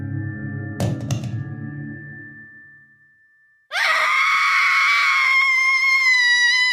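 A woman's high, sustained scream from a film bursts in suddenly and holds loud and steady for several seconds, following a lower murmur of background sound and a brief clatter.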